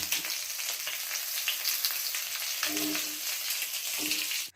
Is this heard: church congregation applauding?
no